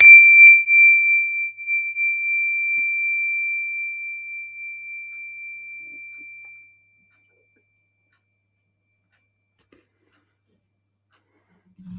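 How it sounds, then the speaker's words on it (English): Meditation bell struck once, a clear bright ring that sustains and slowly fades over several seconds, followed by near silence. "when you detect my bell, allow your eyelids to float open"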